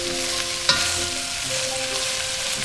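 Onions frying over high heat in olive oil and butter for French onion soup; a close, steady, even sizzle throughout with one brief clink of a utensil early on.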